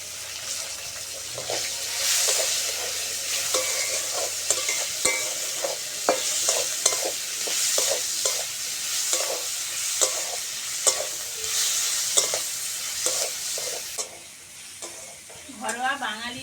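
Chopped onion and tomato frying in oil spiced with dried red chilli, bay leaf and five-spice for a Bengali dal, a steady loud sizzle broken by repeated scraping stirs of a spatula, with a brief watery swirl near the end.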